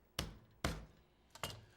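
The flat side of a kitchen knife strikes a garlic clove on a cutting board, giving three sharp, close, quiet thumps in a loose rhythm with no talking.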